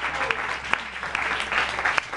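A church congregation applauds in a steady wash of clapping, moderately loud, with a few sharper individual claps standing out.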